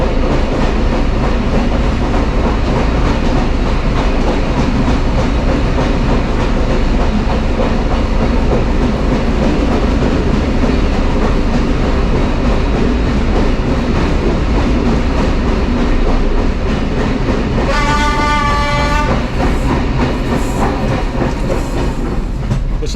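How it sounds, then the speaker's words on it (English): A passenger train from Durres to Tirana, Albania, rolls steadily along the rails with a constant loud rumble and rattle heard from inside, plus a brief high squeal partway through. "the train ride all the way from Durres"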